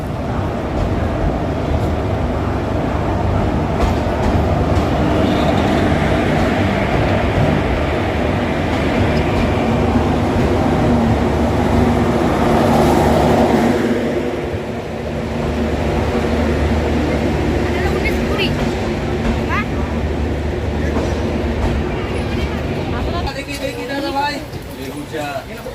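A Vande Bharat express train passes close by at a station, its loud, steady rumble and rushing noise filling the whole stretch and easing briefly before building again.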